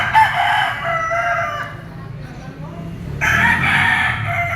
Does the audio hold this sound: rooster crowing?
yes